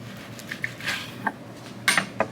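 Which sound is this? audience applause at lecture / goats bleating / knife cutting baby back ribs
knife cutting baby back ribs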